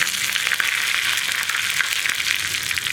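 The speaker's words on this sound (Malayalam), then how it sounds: "ഞാനിതിലേക്ക് ഒരു 3 വറ്റൽമുളക് ചേർക്കുന്നുണ്ട്. അതുപോലെ തന്നെ 2 തണ്ട് കറിവേപ്പിലയും ചേർക്കുന്നുണ്ട്." Dried red chillies and curry leaves fry in hot oil for a potato onion curry, a bright, close, crackling sizzle that holds steady and loud with no speech.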